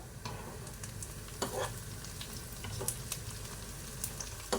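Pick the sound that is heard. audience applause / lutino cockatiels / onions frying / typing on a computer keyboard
onions frying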